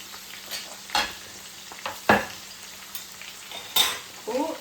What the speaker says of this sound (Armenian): ավելացնում եմ մի քիչ տոմատի մածուկ